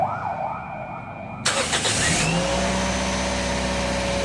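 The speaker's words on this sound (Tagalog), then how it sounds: "Pag start itong makina, mataas agad yung minor." A Toyota Yaris engine cranks and catches, jumping straight into a loud, steady high idle that holds close and even after the start, with a quiet background hum beforehand.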